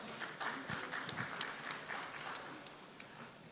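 An audience at a banking and financial services summit in India claps, a dense spread of hand claps that holds steady and then tapers slightly, heard at a moderate distance in a hall.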